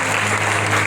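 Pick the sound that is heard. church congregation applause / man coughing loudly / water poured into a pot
church congregation applause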